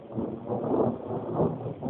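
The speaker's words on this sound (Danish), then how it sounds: "Det er godt med bulleren nu." Thunder rumbles in a Gjern thunderstorm, a sustained low rolling roar swelling and fading in broad waves, loud and continuous throughout with no talk.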